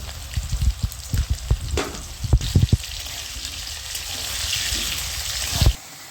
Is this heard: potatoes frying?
yes